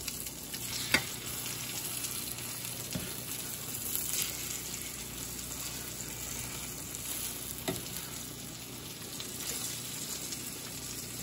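Pork schnitzel frying in a pan over medium-high heat, giving a steady bright sizzle with occasional pops and stirring clatter, close and continuous.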